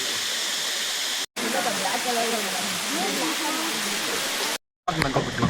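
Steady broadband rush of a waterfall in Gavi forest, low in volume, carrying on with faint speech-like murmurs and briefly cut off twice.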